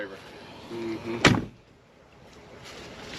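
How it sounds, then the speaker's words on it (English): A single solid thump of a car door slamming shut, preceded by a faint low engine hum and followed by quiet ambience. "door shut good"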